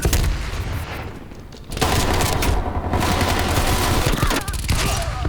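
Rapid gunfire from the Regal Scepter weapon in Call of Duty: Black Ops Cold War crackles in loud, dense bursts, broken by a short lull before firing resumes heavily.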